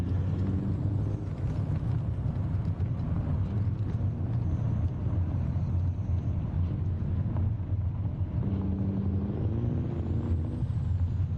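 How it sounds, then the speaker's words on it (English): Heavy truck in American Truck Simulator with its Jake brake engaged, giving a loud, steady, deep engine rumble with a low droning growl that runs throughout, with no talking. "We'll go ahead and turn our Jake brake on now"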